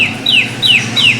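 Birds gathered at scattered grain give three quick, clear, downward-sweeping chirps in steady succession, close and loud over a low background hum.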